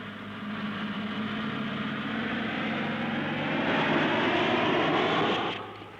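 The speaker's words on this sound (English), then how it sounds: "Hercules transport planes touch down on the city's crater-marked runway" Hercules transport planes touch down on a crater-marked runway in Dhaka, a broad, steady engine roar that builds slightly and then drops away near the end.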